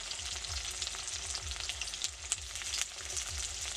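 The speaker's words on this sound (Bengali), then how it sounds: "চাউমিনের সবজিগুলো ভাজার জন্য কড়াইতে আমি সাদা তেল দিয়ে দেব।" Chopped onion and garlic fry in white oil in a kadai for chowmein, making a constant close hiss. Quick rhythmic spatula strokes scrape the pan throughout, and no one speaks.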